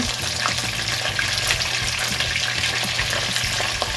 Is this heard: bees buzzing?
no